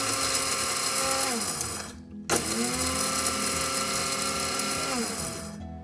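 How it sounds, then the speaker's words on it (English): An electric dry grinder whirs loudly as it grinds roasted curry powder spices, a steady high mechanical drone that briefly cuts out and restarts, then winds down at the end. "transfer this to a dry grinder and dry grind them for 3 to 5 minutes"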